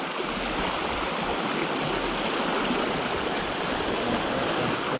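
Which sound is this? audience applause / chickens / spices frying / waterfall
waterfall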